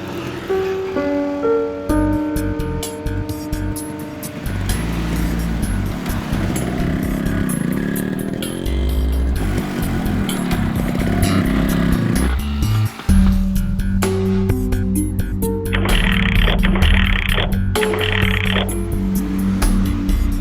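An old motorcycle runs with a loud, uneven sputtering chug, its engine note wavering and stuttering throughout.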